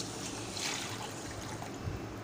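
Water pours from a bowl over washed rice before cooking, making a soft, continuous trickle and splash at close range with no speech.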